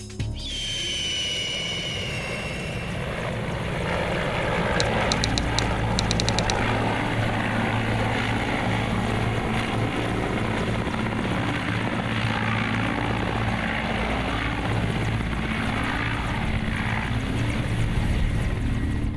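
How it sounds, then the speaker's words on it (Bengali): A helicopter flies toward a remote hilly region of Bangladesh, with a loud, steady engine and rotor drone that holds constant throughout and has a brief rattling flutter near the start. "হেলিকপ্টার আকাশে উড়ল বেলা 12:15টায়"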